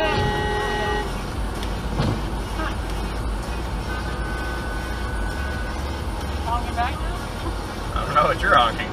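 A car horn honks in traffic, heard from inside a moving vehicle: one sustained, fairly close blast in the first second, followed by steady road rumble, with people talking.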